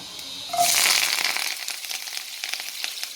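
Loud sizzling erupts as onions hit hot oil with popping mustard seeds, settling into a steady crackling fry with small pops.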